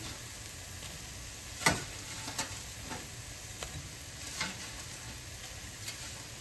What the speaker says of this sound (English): I'm going to toss the tater tots on here and let them cook for a little bit with it